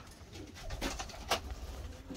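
Pigeons coo in a few soft, low bursts among general background noise, with no voices over them.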